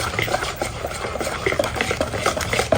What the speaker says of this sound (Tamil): இது இப்போ நான் ஒன்று மிக்ஸ் பண்ணுறேன்